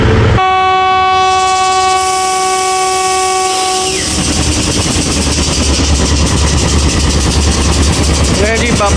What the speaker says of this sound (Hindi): 37 बाबा फरीद एक्सप्रेस का डिपार्चर विसल हो गया जी